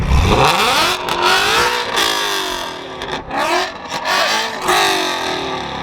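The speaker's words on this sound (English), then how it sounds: "I want to hear it rev on my Shelby." A Shelby car engine revs loudly nearby, its pitch climbing and falling through several throttle blips with a rough, throaty roar.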